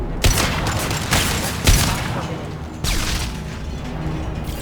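Mechs fire guns in a Mass Effect 2 battle: several loud bursts of rapid gunfire with heavy impacts over a continuous noisy backdrop, with no speech.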